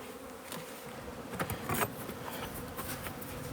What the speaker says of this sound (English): They're angry. There's a lot of bees in there